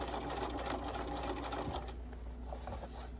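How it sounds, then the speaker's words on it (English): A sewing machine runs steadily and close as it stitches a second seam line on a trick-or-treat bag, a continuous rapid whirring clatter with no voices over it. "I'm doing that second round of stitching now"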